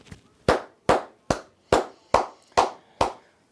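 Seven sharp, evenly spaced hand claps, loud and close, slow and deliberate with a short ring after each and nothing else in between.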